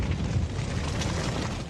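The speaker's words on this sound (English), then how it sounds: "The explosion can sometimes be surprisingly crazier than one would expect." Gunpowder detonating in a contemporary artwork, a dense sustained roaring blast that holds loud and rough throughout before fading slightly at the end.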